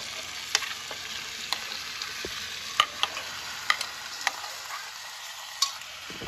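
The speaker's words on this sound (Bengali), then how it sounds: "এবার এর মধ্যে দিয়ে দিচ্ছে ম্যারিনেটেড মাটনটা।" Marinated mutton fries over browned onions in a pan for a young goat curry, a steady moderate sizzle broken by sharp spatula clicks and scrapes, then quietening slightly toward the end.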